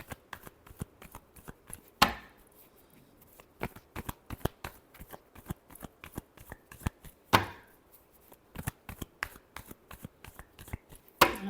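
Tarot cards being shuffled by hand, a run of crisp riffling clicks with two louder card bursts, close up with no talking.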